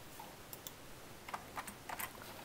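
Computer keyboard typing, faint and quiet, with scattered clicks landing in small irregular bursts, several close together near the end, over a steady hiss with no voice.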